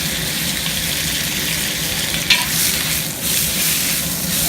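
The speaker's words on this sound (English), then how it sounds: "I throw a little bit of oil in. Oil. While that's getting hot, I've got all this excellent beef trimmings and fat." Beef trimmings and fat fry in hot oil in a cast iron stew pot over a backyard burner, making a loud, continuous sizzle close up with a brief clink partway through.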